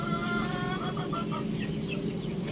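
Aseel hens on a rooftop farm give soft, steady clucking, a low continuous murmur of fowl close by with a few faint higher calls mixed in, no talk.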